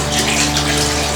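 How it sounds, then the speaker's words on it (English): Water from a turtle tank pours into a toilet in a loud, continuous gushing stream, close and steady, with no talk. "it's always smart to dump the water into the toilet, not the sink"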